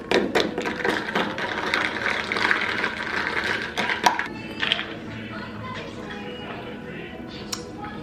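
Chobani coffee creamer is splashed into a cup of coffee, a soft steady liquid pour with small clinks and handling noises, fairly close and quiet.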